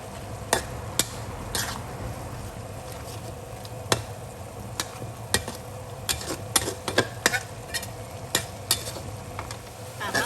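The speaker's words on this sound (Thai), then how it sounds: "เราก็จะเคี่ยวไปสักพักนึงค่ะ ให้มะเขือเทศ สุกนิ่มนะคะ" Tomato chili paste simmers in a pan with a soft, steady bubbling hiss, broken by scattered sharp clicks and scrapes of a utensil stirring against the pan.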